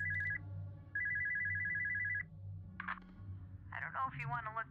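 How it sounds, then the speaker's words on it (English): Electronic telephone trill from the horror game Spooky's Jump Scare Mansion, two ringing bursts over a low hum, followed by a person speaking. "phone call"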